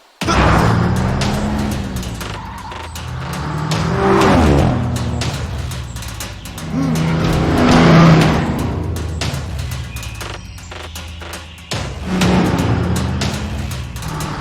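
A cartoon super truck drives fast, its engine surging in repeated loud revving swells that rise and fade several times, close up with no speech.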